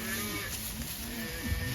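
Cattle on an open-range drive of cow/calf pairs low several times, their short, wavering moos overlapping at a moderate distance against a steady outdoor background.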